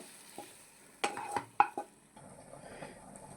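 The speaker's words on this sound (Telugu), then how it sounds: "2 టమాటాలు కట్ చేశాను. ఇది వేయించేసుకుందాము." Cut tomatoes fry in a pan, stirred with a utensil that scrapes and clinks against the metal several times over a faint, quiet sizzle, and no one speaks.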